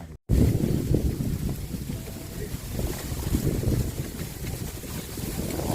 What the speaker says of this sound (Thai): ลมเย็นดี